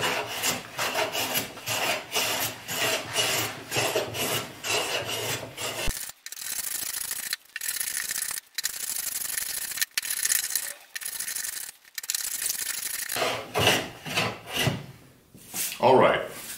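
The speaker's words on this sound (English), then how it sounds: "now that I'm taking nice full shavings in both directions across it" A hand plane takes full shavings across a wooden board, producing repeated close, raspy swishing strokes in a steady back-and-forth rhythm, with brief pauses between passes.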